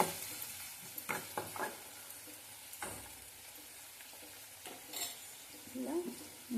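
Salted onions fry in a pan with a low steady sizzle, as a spatula stirs them in scattered scraping and clinking strokes against the metal, moderately close and with no talking.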